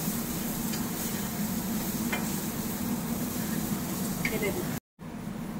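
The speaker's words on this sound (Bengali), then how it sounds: "ভেজিটেবলসগুলো কিন্তু আমার প্রায় পুরো ভাজা হয়ে গেছে।" Mixed vegetables sizzle steadily in olive oil for a healthy chicken fried rice, with a close, constant crackling hiss and a few faint scraping stirs, briefly cutting out near the end.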